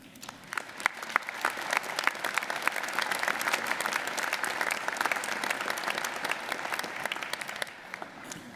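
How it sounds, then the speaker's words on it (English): A large audience in a theater at a college commencement applauds steadily, a dense wash of clapping hands that swells and holds for several seconds before tapering off. "from Dr. Gilmore, I want to hear the largest round of applause this theater has ever heard"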